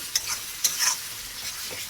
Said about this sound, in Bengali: আমাদের মশলা ভাজছি মাছের মাথার ডালের জন্য।